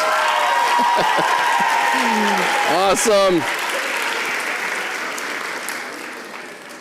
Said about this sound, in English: they're going to give you this big, wonderful round of applause